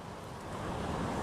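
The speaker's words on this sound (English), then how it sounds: "The waves are breaking right over the top of the jetty right now." Ocean waves break over the top of a jetty in a steady, loud rush of surf, with wind noise and no voices.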